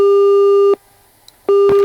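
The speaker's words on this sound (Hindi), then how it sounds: "शायद फोन डिस्कनेक्ट कर दिया है" Telephone busy tone after a disconnected call: a loud steady beep, a short gap, then the tone starts again, heard on its own.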